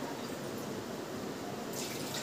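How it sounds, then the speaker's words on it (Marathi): Water streams steadily into a pot of mutton curry on the stove, a soft, continuous pouring rush heard alone for a couple of seconds. "आपण पाणी टाकू, आपल्याला पाहिजे तेवढा रसा करू"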